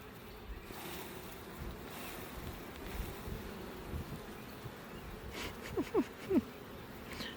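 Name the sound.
honey bees swarming around an opened hive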